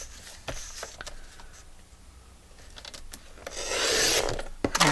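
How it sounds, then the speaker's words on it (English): A piece of paper is trimmed off by hand, giving scratchy rubbing and rasping sounds with scattered light ticks, growing louder and denser toward the end, with no talking. "First we'll trim this one off here."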